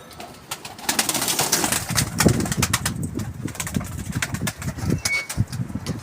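Pigeons coo repeatedly with soft, low throaty calls, joined by bursts of wing flapping, fairly close and without talk.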